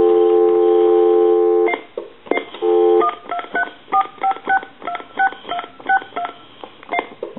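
An AT&T 5500 cordless telephone plays a held dial tone, then a quick run of redial DTMF beeps, sharp, loud and evenly spaced.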